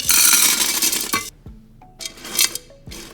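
Salt is poured into the bottom of a glass beaker as a steady, close granular hiss that stops, then returns in short bursts, with small glassy clinks between them.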